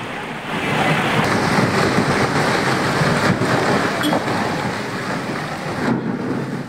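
Roaring floodwater after a cloudburst in Uttarakhand, a loud, unbroken broadband rush that stays steady throughout, with no voices heard.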